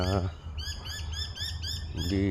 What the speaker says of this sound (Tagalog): May mga ibon dito